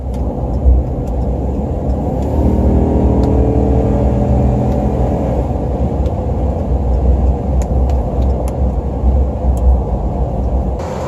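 A 2018 Ram 2500 Heavy Duty pickup with the 6.4L HEMI drives along, a steady loud low rumble of engine and road noise throughout with a brief rising tone early on.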